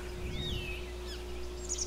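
A bird in Ark Survival Evolved trails the player, giving a few thin, sweeping chirps and whistles, fairly faint over a low steady hum.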